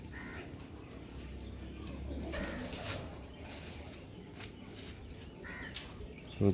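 Soft, low pigeon cooing repeats in the background over a steady murmur of ambient noise, with a brief louder bump at the very end.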